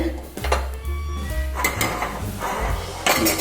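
Roasted moong dal is tipped into a pressure cooker amid close metallic clinks, scrapes and knocks of pots and a spoon, a short busy clatter with low thuds underneath.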